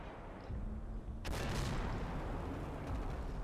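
Mortar fire in the Combat Mission wargame: a low rumble followed by a sudden loud broadband blast about a second in, trailing into a sustained crackling, rumbling wash of explosions and gunfire.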